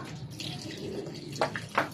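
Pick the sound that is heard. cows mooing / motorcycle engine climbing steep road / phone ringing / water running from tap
water running from tap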